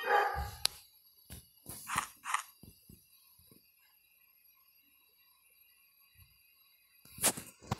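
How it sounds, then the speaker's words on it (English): A dog barks in a few sharp bursts, fairly close and moderately loud, in quick clusters early on and once more near the end, with quiet stretches and faint game sounds between them. "Shut up, dog."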